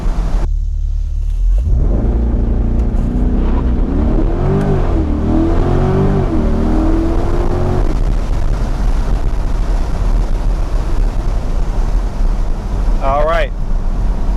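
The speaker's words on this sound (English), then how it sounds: "Just did launch control, manual shifting, and I got a 0 to 60 unprepped surface, fairly cold tires at 3 seconds flat." A Chevrolet Corvette C8 launches with launch control and manual shifting: the engine roars and revs up through several gear changes, heard from inside the car amid heavy road and wind rumble, then settles into a steady drone.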